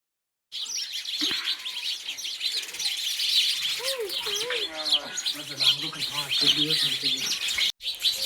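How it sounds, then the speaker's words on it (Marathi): Many small birds chirp and tweet all around among hibiscus shrubs in a village garden, a dense, continuous chorus of close and distant calls with someone talking over it. "इतकं सगळीकडे चिवच चिव आहे नुसत्या"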